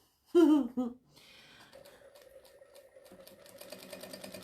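A short vocal sound comes first, then a sewing machine doing free-motion quilting stitches steadily, its rapid mechanical ticking gradually getting louder and quicker.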